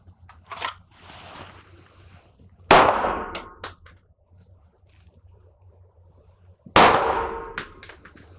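Two sharp, loud pistol shots, about four seconds apart, ring out during a shooting training drill led by a special-forces instructor. Each crack has a short ringing decay, with faint handling noise in between.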